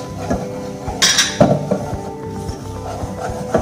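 Flour being stirred and toasted in a pan for béchamel sauce, with repeated clinks and scrapes of a utensil against the pan over a low background sizzle, close and fairly loud.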